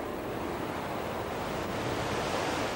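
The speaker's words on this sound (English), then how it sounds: "waves created in man-made lagoons crash onto artificial sand" Artificial waves crashing onto artificial sand in a man-made lagoon at a resort, a steady broad roar of surf rolling continuously, loud and close with no voices.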